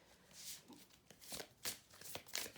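Romance Angels oracle cards are shuffled by hand in a quiet room, giving a string of soft papery riffles and slaps in uneven bursts, faint and close, with no talking.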